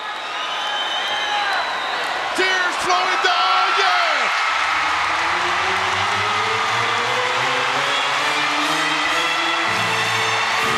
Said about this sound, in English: Listen to the ovation for Randy Savage and Elizabeth!